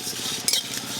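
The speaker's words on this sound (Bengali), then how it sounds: "এই দেখুন কি সুন্দর পটপট করে আওয়াজ হচ্ছে" Cumin and coriander seeds with dried red chilli crackle in a hot kadai, a soft steady sizzle broken by a brief, sharper burst of pops halfway through.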